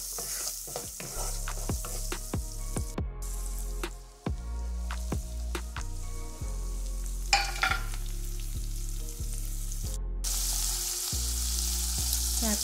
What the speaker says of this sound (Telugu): అందులో ఆయిల్ వేసేసి ఉల్లిగడ్డలు, పచ్చిమిర్చి, క్యారెట్ వేసుకొని ఫ్రై చేసుకోవాలి